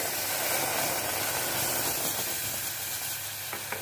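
Fresh cream stirred into roasted buckwheat flour in a pan over low heat, a continuous dense sizzle with soft stirring scrapes, close and steady throughout with no voices.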